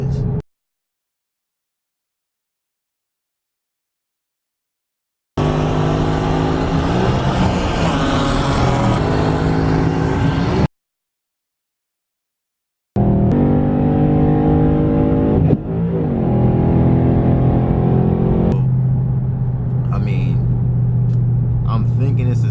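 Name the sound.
Mustang GT with faulty transmission making noise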